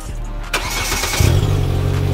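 A Volkswagen GTI is started by push button with the brake held. A brief crank leads into a steady mid-pitched idle, close and moderately loud, with no talk.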